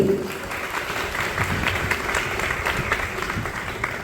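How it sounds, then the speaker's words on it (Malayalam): An audience applauds a chief guest, a Bigg Boss Season 7 third runner-up, at a Disability Day event for children: dense, sustained clapping from a roomful of people, steady and fairly close. "കൊടുക്കാൻ നല്ലൊരു കൈയടി"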